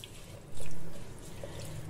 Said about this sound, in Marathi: ही डाळ आता आपल्याला धुवून घ्यायची आहे।